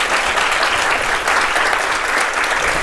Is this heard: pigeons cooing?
no